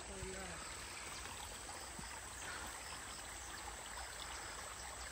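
A small stream of water flows steadily with a soft, continuous trickling rush in a Korean forest, fairly quiet and unbroken.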